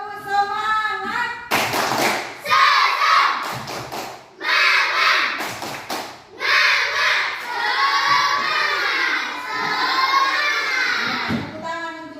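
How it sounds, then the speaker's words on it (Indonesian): Schoolchildren in a classroom doing a rhythmic Indonesian spirit clap, bursts of loud patterned clapping mixed with voices chanting and shouting in unison, close and lively. "Lagi tepuk semangat."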